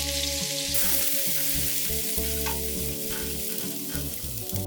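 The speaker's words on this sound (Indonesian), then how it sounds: "Tumis hingga bawang harum." Half an onion, diced, sizzles and fries steadily in about eight tablespoons of cooking oil for Turkish stuffed eggplant. The hiss is close and continuous, with no voices.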